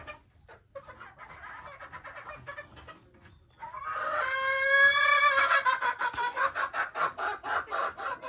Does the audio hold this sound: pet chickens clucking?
yes